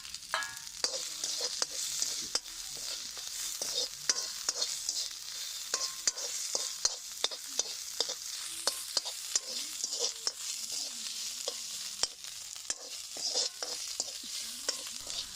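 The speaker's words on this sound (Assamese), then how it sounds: "আৰু আনফালে তেল গৰম হৈ গৈছে যিহেতু, আমি এতিয়া পিঁয়াজ ঢালিম" Onions sizzle and crackle steadily in hot oil for a pork curry, a continuous frying hiss broken by frequent sharp pops and stirring scrapes, close and alone with no talk.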